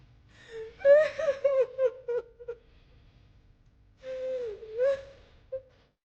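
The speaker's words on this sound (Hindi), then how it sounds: "पर रात में उसे भी किसी के रोने की आवाजें सुनाई दी।" Eerie wailing cry at night inside a haunted mansion, two drawn-out sobbing, gasping phrases separated by a pause, fairly close and alone with no talk.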